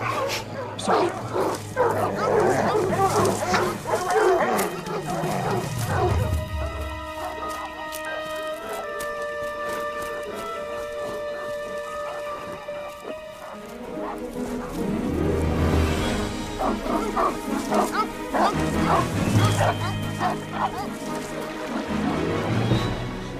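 Several dogs bark and yip repeatedly, loud and close, with clucking chickens and a sustained tonal hum in the middle stretch.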